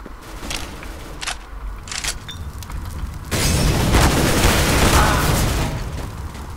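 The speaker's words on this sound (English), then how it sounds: "Throwing flashbang." Flashbang grenade in Counter-Strike: Global Offensive, a few sharp clicks and pops first, then a loud sudden burst that hangs as a dense hissing wash for several seconds before easing off.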